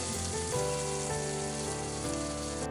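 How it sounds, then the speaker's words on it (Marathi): Chopped onion fries in hot oil for a spiced potato dish, giving a steady, dense sizzle that holds evenly throughout without pause. "या कांद्याला आपण एक सेकंद चांगल्या प्रकारे तळून घेऊ"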